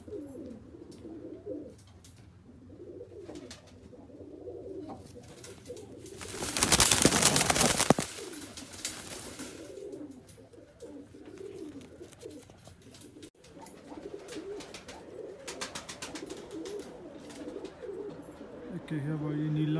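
Pigeons, a blue male and a copper-coloured female, coo softly in repeated low rolling calls under a steady background, with a loud burst of broadband noise in the middle and occasional voices nearby.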